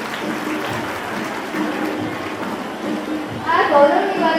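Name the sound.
applause by the honoured daughters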